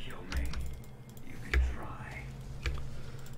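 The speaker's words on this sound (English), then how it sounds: "I'm typing fast." Quick, light clatter of computer keys during a League of Legends match, soft bursts of typing broken by a few louder thumps, heard under a player's talk.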